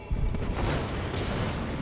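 Explosions in the video game Enslaved: Odyssey to the West boom out in a dense, continuous rumbling roar, with a sharp burst near the start and sustained low blasts throughout.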